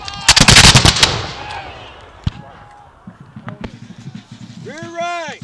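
Revolutionary War reenactors fire a musket volley at a battle reenactment, one loud ragged burst of near-simultaneous shots up close, followed by shouted commands and crowd noise.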